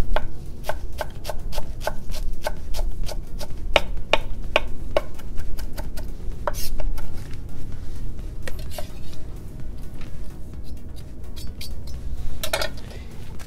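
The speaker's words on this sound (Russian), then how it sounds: "Здесь должно быть достаточно много кинзы. И ее уже мелко шинкуем." A knife finely chopping cilantro on a cutting board, a steady run of sharp, close taps in quick rhythm, pausing briefly now and then, with no talk over it.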